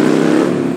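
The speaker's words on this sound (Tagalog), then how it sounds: "ginawang ingay naman ng sasakyan niya" A car engine roars in a brief, loud burst, close by and steady.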